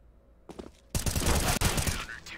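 Rapid gunfire and grenade blasts from a video game shooter crack in a dense, loud burst after a quieter opening, with faint talk underneath.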